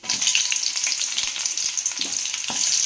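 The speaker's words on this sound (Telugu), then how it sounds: "జీలకర్ర, ఉద్దిపప్పు, శనగపప్పు. ఇవి కొంచెం ఫ్రై అయిన తర్వాత ఇందులోకి ఆనియన్స్ వేసుకుందాము." Cumin, urad dal, chana dal and onions frying in a pan for wheat pongal give a steady, close, crackling sizzle with light stirring scrapes, no voices.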